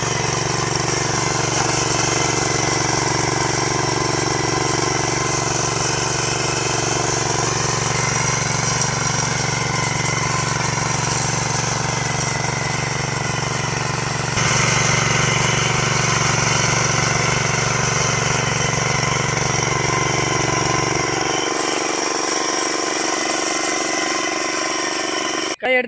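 An engine-powered weeding machine runs steadily in a farm field, a loud, continuous droning motor with a constant hum that holds for most of the clip before the low rumble drops away near the end.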